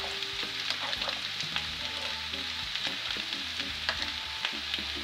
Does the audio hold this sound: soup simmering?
yes